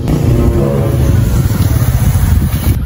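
A motorcycle engine rumbles loud and close as the bike arrives, holding a steady, throaty drone throughout with slight rises and dips in pitch.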